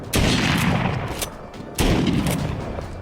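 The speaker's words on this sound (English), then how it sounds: "this is how the shotgun works. I have to pump it every single time." Two heavy booming blasts from a pump shotgun in The Walking Dead Saints and Sinners, each a sharp close crack followed by a long decaying rumble, spaced about a second and a half apart.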